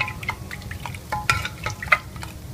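Capsicum and vegetable masala for street-style pav bhaji frying in a pan, soft crackling sizzle with scattered scraping stirs and clinks, close and continuous.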